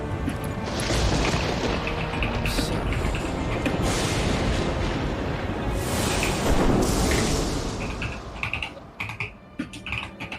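A flashbang blast in Sekiro bursts out as a dense, loud wall of noise and then rumbles for several seconds before breaking into scattered crackles and decaying.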